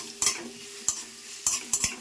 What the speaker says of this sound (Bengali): এবার পেঁয়াজগুলো লাল লাল করে ভাজা হবে।